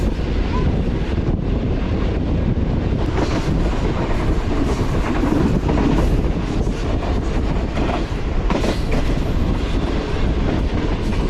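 The Green Line Express passenger train runs along a mountain track near Islamabad, with a loud, continuous rumble and rolling clatter of wheels, heavy wind buffeting over it and faint voices now and then.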